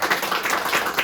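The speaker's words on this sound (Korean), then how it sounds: "강사님 소개할 때 우리 부모님들 큰 박수로 환영해 주시고요" An audience of parents applauds to welcome a lecturer at a school's anniversary lecture, a dense, steady patter of many hands at moderate distance.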